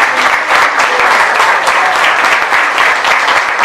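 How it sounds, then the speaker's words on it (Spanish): Sustained audience applause fills a tango milonga, steady and dense clapping from a crowd throughout, loud and close with no break. "Un aplauso grande para el maestro."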